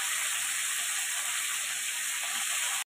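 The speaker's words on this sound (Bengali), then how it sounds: "আলুগুলো ভাজা হয়ে গেছে, এরপরে দিয়ে দেবো কুচি করে রাখা টমেটোগুলো।" Potatoes and chopped tomatoes frying in hot oil, a continuous close hissing sizzle that holds even and then cuts off abruptly, with no talking.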